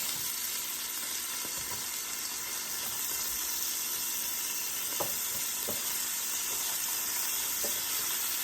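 Sausage cooking in a pot for shrimp and grits, a steady hissing sizzle with occasional faint clicks of a utensil, moderately close, no talk.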